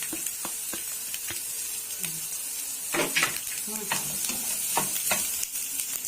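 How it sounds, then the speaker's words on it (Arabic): Onions with red and green bell peppers sizzling steadily in a frying pan for chicken shawarma, close by, with sharper crackling bursts and occasional knocks and scrapes as the mixture is stirred. "بقى هضيف البصل والفلفل اللي انا كنت عاملاه"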